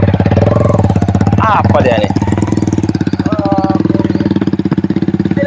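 A motorbike engine runs steadily up close, its dense rhythmic chugging continuous throughout while several people talk over it.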